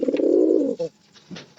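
A domestic pigeon gives one close, loud, drawn-out coo followed by a couple of softer, shorter coo notes, heard alone without talk.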